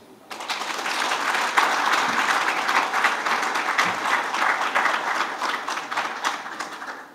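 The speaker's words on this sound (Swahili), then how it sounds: "Makofi machache." Sustained applause from a crowd at a kit sponsorship announcement, dense overlapping claps rising quickly and holding steady at fairly loud level.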